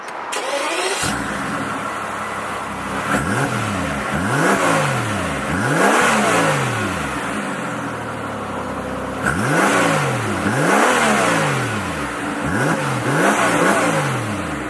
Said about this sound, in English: let's go ahead and start it up and see how a 12-cylinder AMG sounds